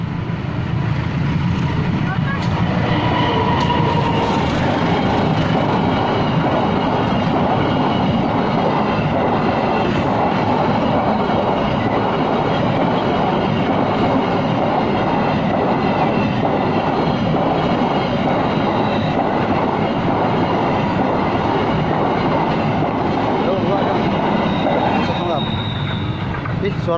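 Freight train of flat wagons rolling past on the Nambo line in Indonesia, a loud continuous rumble with wheel clatter and squeal close by, with people talking over it.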